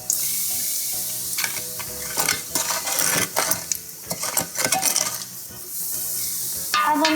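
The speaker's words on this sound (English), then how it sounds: "Now we're going to stir that so that it doesn't burn." Potato curry with kasuri methi sizzles in a pan while a spoon scrapes and clatters against the metal in quick irregular strokes, up close, with steady frying underneath and no talk.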